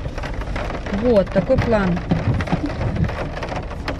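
Steady rain falls outside, a continuous patter with a low rumble beneath it, while someone talks briefly over it nearby.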